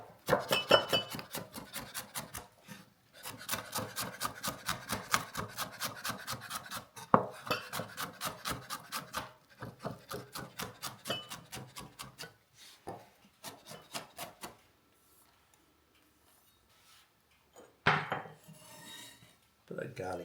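Garlic chopped with a knife on a cutting board, rapid steady rhythmic knocks in long runs with short pauses, close and clear, ending with some scraping and handling noise.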